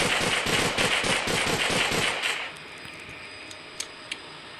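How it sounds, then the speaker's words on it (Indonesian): Rapid automatic fire from the TX-9, a 32-round gun in the video game Gorebox, rattles loudly for about two seconds and then stops, leaving quiet background with a couple of faint clicks. "kita ke senjata selanjutnya yaitu adalah TX-9. Menampung 32 peluru. Kita langsung coba"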